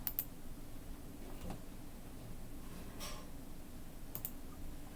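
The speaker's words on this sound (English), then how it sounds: "So if we click on that one and then click on that one," A few sparse, faint computer mouse clicks while working on a brick-pattern design on screen, separated by quiet gaps, with no talking.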